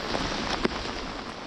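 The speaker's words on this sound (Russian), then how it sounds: "Выключаемся, пережидаем, в общем, этот ливень." Heavy rain downpour during a thunderstorm on a fishing trip, a steady dense hiss of rainfall with a faint brief tap in the middle, no voices.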